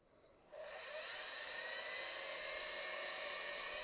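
A high-pitched whirring 2-inch sanding disc spins up after a brief quiet start and runs steadily on lathe-turned wood, loud and close, with a bright grinding whine.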